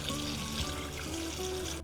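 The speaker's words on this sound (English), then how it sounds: "Get the pasta drained and run it under cold water to stop the cooking and cool it down." Cold tap water runs steadily over cooked pasta draining in a colander, a continuous faint rushing and splashing with no talk.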